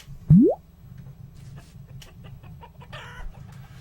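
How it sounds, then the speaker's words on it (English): A single chicken clucks in the blocky RPG Forge Quest: a sharp rising squawk near the start, then soft clucks and chirps over a low steady game hum. "A chicken!"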